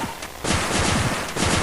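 Rapid rocket fire in the video game Cave Story, a dense run of quick bursts and blasts that starts after a brief quieter lead-in and keeps going loud and steady to the end.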